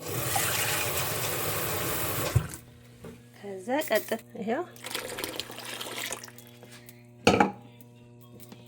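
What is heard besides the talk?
water poured into injera batter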